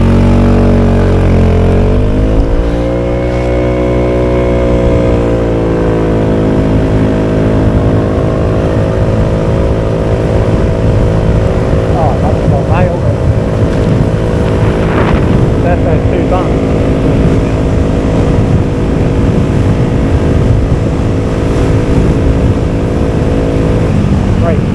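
Scooter on a test ride after a front fork preload adjustment, its engine droning steadily and rising in pitch as it pulls away, loud and close with heavy wind buffeting throughout.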